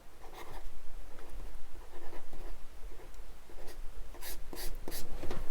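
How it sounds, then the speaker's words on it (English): Pencil tool on a reMarkable 2 e-ink tablet, a close dry scratchy stylus sound in quick repeated strokes with short pauses, heard alone. "So that's what the pencil sounds like."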